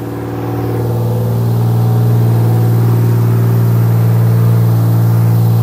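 A BMW E36 turbo car engine holds a loud, steady drone that swells slightly in the first seconds and then sustains close by with a strong low rumble and no talking.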